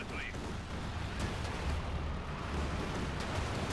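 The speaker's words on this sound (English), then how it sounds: "Air support called in against the H-5s and Luftwaffe strikes" Air strike explosions in the Company of Heroes 2 video game, rumbling blasts and booming impacts rolling continuously under a commentator's voice.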